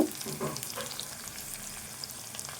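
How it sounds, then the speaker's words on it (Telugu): Onion, green chillies and curry leaves fry in a pan, giving a faint, soft sizzle with a few light stirring scrapes close by and no talking. "ఇవన్నీ కొద్దిసేపు వేపుకోవాలి కొంచెం దూరగా వేపుకోవాలి"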